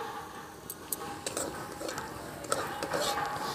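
Semolina is tipped into hot ghee in a wok and stirred, giving soft scraping and scattered metallic clinks of a spoon against the pan, faint and close, with a quiet voice now and then.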